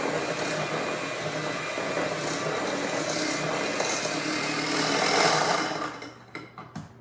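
Flour being stirred into plum cake batter in a mixing bowl, a steady, close, broadband whirring churn that runs without pause for about six seconds, then drops away into a few brief scrapes and taps. No one speaks.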